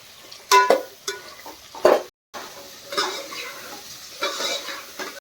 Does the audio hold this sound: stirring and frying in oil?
yes